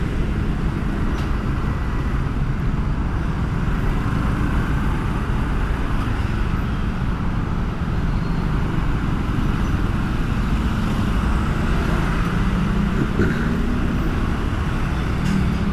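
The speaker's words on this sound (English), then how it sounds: "Man, traffic is bad." Heavy Bangkok street traffic rumbles on without pause, a dense low wash of car, bus and truck engines with occasional swells as vehicles pass nearby.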